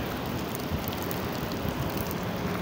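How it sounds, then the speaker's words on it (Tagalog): Steady rain patters and hisses continuously on a construction site, a dense wash of drops on surfaces with no voices. "Maghapon ng ulan."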